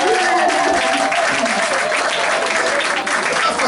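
A church congregation applauds and cheers at a French-language sermon, a dense, loud, continuous wash of clapping and crowd noise filling the whole moment.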